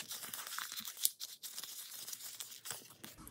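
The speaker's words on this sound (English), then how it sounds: "So I'll crumple these up first" Sheets of paper for a junk journal project are crumpled by hand close up, making soft, continuous crinkling and rustling with a few sharper crackles.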